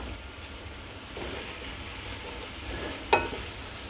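Pasta soup ingredients sizzle in a pan with a steady, close frying hiss, broken by a sharp clink of a utensil near the end.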